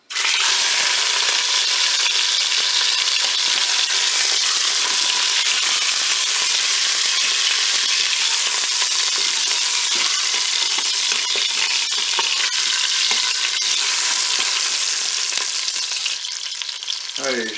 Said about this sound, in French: Je vais pouvoir faire revenir mon rôti.